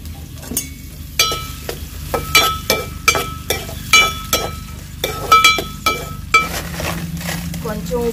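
Onion and green chillies fry in a pan with a steady background sizzle, punctuated by sharp clinks and scrapes of a metal spoon stirring against the pan, close by.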